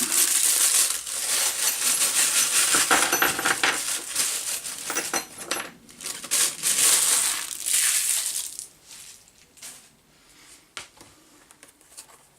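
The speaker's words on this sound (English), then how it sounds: "Let me get these nuts and bolts out." Nuts and bolts rattled and lifted out of crinkly plastic packaging from an unboxed Wolf 500W 230V pillar drill, a dense rustle of crinkling and clinking metal for about nine seconds, then quieter scattered clicks.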